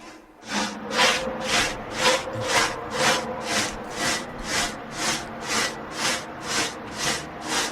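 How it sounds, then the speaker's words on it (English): Steady back-and-forth sawing through wood, about fourteen even rasping strokes with a roomy reverberant tail, loud and close with no voices. "he's just sawing wood"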